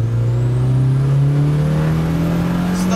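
A 50cc moped engine fitted with a Chinese turbo holds a loud, close, steady drone that gradually climbs in pitch, with a thin rising whine of the turbo above it.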